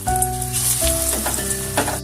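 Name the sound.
cauliflower fritters frying in hot white oil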